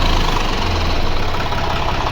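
A tractor engine runs steadily at a rural Uttar Pradesh farm, a loud, continuous low rumble with a knocking diesel throb that never lets up, close by and with no voices.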